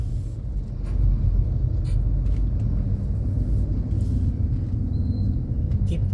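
A truck's engine rumbles nearby at a steady, low level, with a few faint clicks and bumps over the drone and no clear talking.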